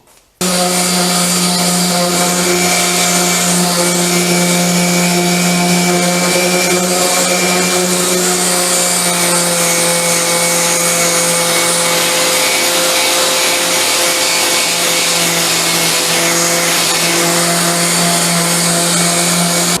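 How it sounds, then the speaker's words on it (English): A power sander whirs in a steady, loud, unbroken drone on a spray-painted side table magazine rack being restored, running close and alone for the full stretch. "I still have to sand it in any case"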